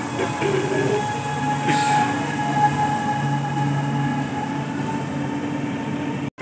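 A Chennai Metro train runs along the track, giving a steady, close rumble with a sustained electric whine and faint wheel noise, while a voice speaks softly over the din.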